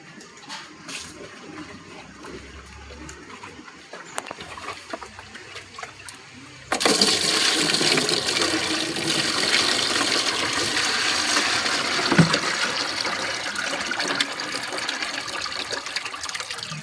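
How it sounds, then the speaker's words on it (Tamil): Water pours into a guppy fish tank. After a quiet stretch, a steady, loud gushing starts abruptly and continues evenly to the end. "தண்ணி ஃபில் பண்ணியாச்சு."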